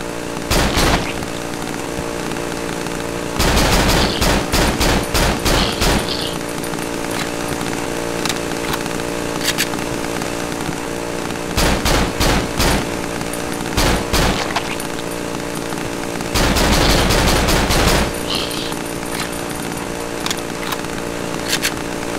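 Gunfire in the Cry of Fear video game: several loud, rapid bursts of repeated shots in separate volleys over a constant droning background, with no talking.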